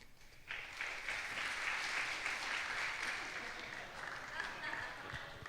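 A church congregation at a young adults' Sunday worship service breaks into sustained applause, a broad steady wash of clapping that swells quickly and then slowly thins, with voices murmuring underneath.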